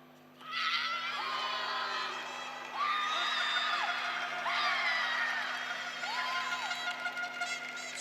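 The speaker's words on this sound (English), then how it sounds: "Screams of delight coming from the French team as Alicia Agier takes another very important score" At a European senior karate championship bout, the French team and crowd let out repeated high-pitched screams and whoops of delight in several bursts over the hall's background hum.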